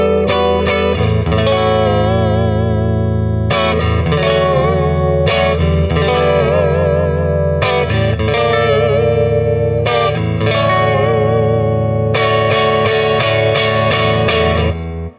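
Electric guitar chords from a Fender Johnny Marr Jaguar ring out loud and full through a Princeton Reverb amp with reverb on 5, each strum washed in lush reverb that sustains between phrases, with no talking.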